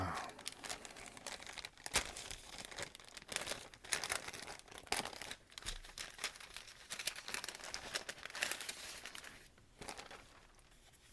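Plastic wrapping around decal sheets for a Tamiya 1/48 F-4B model kit being cut open, with close, faint crinkling and sharp crackles coming in irregular bursts.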